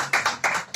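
An audience at a comedy stand-up show claps in a brief, loud burst of a few separate hand claps.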